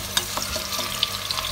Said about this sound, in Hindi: तो ऑयल गर्म हो गया, इसमें डाल देते हैं मशरूम को।